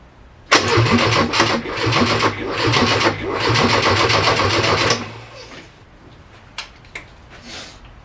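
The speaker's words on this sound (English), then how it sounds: "I would just crank it and see what happens." A Porsche 924 engine cranks with a dense, loud rhythmic churning for about four and a half seconds, then cuts off abruptly, leaving quiet background with a few faint clicks and knocks.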